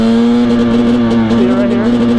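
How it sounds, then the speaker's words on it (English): A KTM Husqvarna TPI two-stroke dirt bike engine held at steady throttle gives a loud, continuous drone close by, with faint rapid pinging ticks riding over the running engine. "See, right here is kind of pinging."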